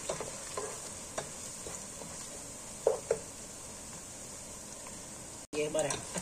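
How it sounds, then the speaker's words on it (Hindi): Soft, faint sizzle of crushed ginger frying in a pan for keema matar, with occasional stirring scrapes and a louder clatter near the end, under a woman's speech. "अब इसमें 1 टेबलस्पून क्रश किया हुआ अदरक है। अभी इसको भी 2 मिनट भूनेंगे।"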